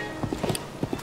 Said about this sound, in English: oh look, there's a horse and cart